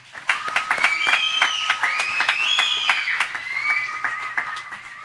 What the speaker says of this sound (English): everyone give them a round of applause as well